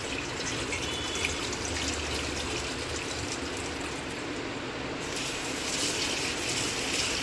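Soaked, husked split moong dal is rinsed for dal vada under a constant rush of running water with splashing throughout, close and loud, with no voices.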